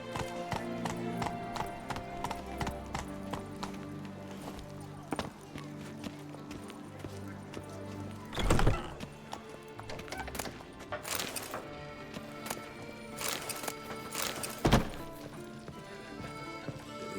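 Roach the horse trotting in The Witcher 3, hooves clip-clopping steadily under a music bed, with a couple of heavier thuds and faint voices in the background.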